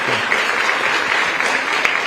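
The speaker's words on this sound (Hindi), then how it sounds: "मैं चाहूंगा जोरदार तालियों से स्वागत करें।" A studio audience claps loudly to welcome the education minister, Dharmendra Pradhan. The applause is dense and continuous and carries no speech.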